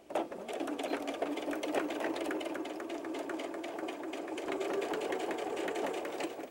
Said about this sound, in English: And now you're just going to sew it in place.